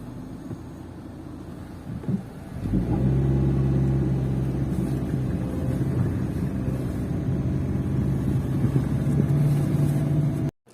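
A Toyota Fielder car climbing a hill, its engine a steady, loud low rumble that swells sharply after a quiet start and holds a constant drone until it cuts off abruptly.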